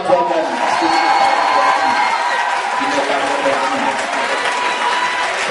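A church congregation at a Sunday service applauding and cheering, a sustained, dense wash of clapping from a large crowd with a few whoops mixed in, loud and unbroken throughout.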